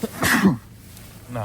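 A single close sneeze bursts out at the start during a camping stay on the Albanian coast, followed by a short spoken word.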